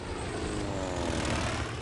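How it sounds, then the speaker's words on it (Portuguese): American propeller-driven torpedo bombers and bombers drone overhead in a loud, steady engine roar with a pulsing propeller beat, alone. "os americanos enviaram vários esquadrões de aviões torpedeiros e bombardeiros"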